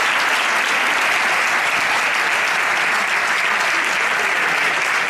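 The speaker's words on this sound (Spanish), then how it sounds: "Un aplauso para ellos, por favor." A loud, sustained round of applause fills a hall at a flamenco singing competition final in Leganés as the audience claps for the three finalists, a thick continuous roar of many hands without letup.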